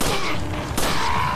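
Gunfire in the Resident Evil 4 VR video game: a couple of sharp, loud shot bursts in quick succession over a noisy game soundscape.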